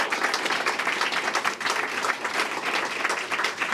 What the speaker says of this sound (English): So we'll give her a round of applause for her leadership.